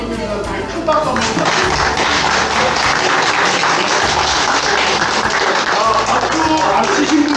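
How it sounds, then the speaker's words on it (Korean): Crowd of participants on a university field trip to Yeosu-Suncheon October 19 heritage sites applauding steadily, a dense loud patter of many hands lasting throughout with voices mixed in. "큰 박수 한번"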